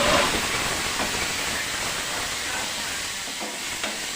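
Oil grown too hot hissing and sizzling in a pan while fried rice is cooked with tomato and spices, a loud continuous frying hiss close by with faint stirring scrapes.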